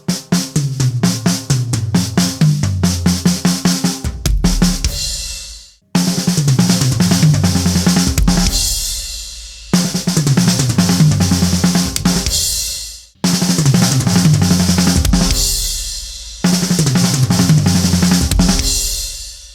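A single ratamacue lick played around the drum set toms repeats in four loud, rapid phrases, each a cascading run of strokes ending in a brief pause, with no talking.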